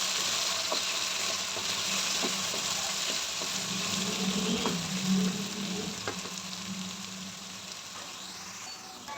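Potatoes frying in a pan for an egg and potato breakfast dish, a steady close sizzle with faint clinks of a utensil now and then, no voices.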